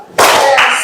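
A single sharp burst of hand clapping from a classroom group playing a clapping ice-breaker game, loud and close, ringing briefly before trailing off.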